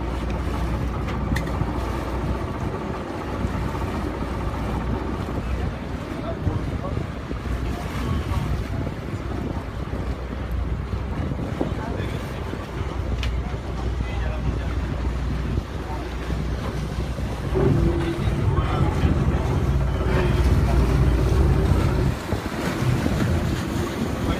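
A Zodiac inflatable motorboat approaches at a sailing regatta, heard as a steady low engine drone under heavy wind buffeting and sea noise, growing slightly louder near the end.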